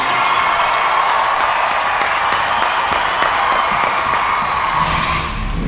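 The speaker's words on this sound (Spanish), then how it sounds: "aplausos para ti, raza" Loud, dense crowd roar and applause at the Vive Latino 2011 rock festival for a band, a steady wash of clapping and cheering from a huge audience that dips slightly at the end.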